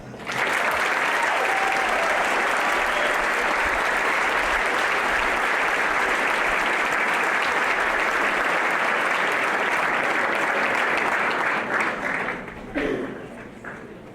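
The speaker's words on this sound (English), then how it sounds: "How about a big round of applause?" Sustained applause from a seated audience at a ring ceremony, a broad wash of many hands clapping steadily and loudly for over ten seconds before tapering off near the end.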